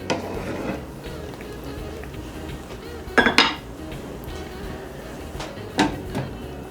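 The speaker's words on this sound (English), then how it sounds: "I'm going to give these a stir" A spoon stirs soaking beans in a pot, giving two short bursts of metallic scraping and clinking against the pot over a quiet kitchen background.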